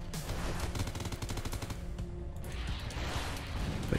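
Missiles launch in rapid succession in the space combat game Everspace, a dense run of sharp, loud firing bursts that blurs into a continuous barrage, with no talk over it.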